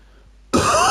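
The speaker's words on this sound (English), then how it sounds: "That cough is gonna fucking be in the video anyway." A single harsh cough breaks out abruptly after a quiet moment, loud and close, rasping on to the end.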